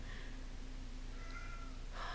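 A faint, drawn-out cat meow rises over a steady low hum, with a brighter cry breaking in at the very end.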